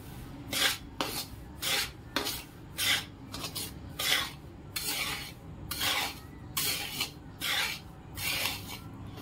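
Dry semolina roasting in a pan without oil or ghee, stirred in a steady rhythm of roughly a dozen scraping, rasping strokes, close and fairly loud.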